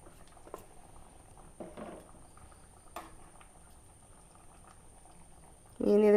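Fish molee gravy boils gently in a pan with faint, sparse bubbling and soft pops over a quiet background, and a voice comes in at the very end.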